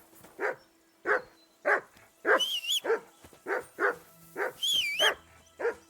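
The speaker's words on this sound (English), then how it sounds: "Call off that mutt of yours." Dog barking repeatedly in a medieval game scene, a steady series of sharp, loud barks spaced about half a second apart, with a couple of high whining yelps mixed in.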